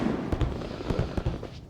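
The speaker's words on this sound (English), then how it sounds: "Watch out for folk chucking firecrackers" Firecrackers go off outside in a quick irregular string of sharp pops and cracks, some louder and nearer than others, over a constant rumble of distant bangs.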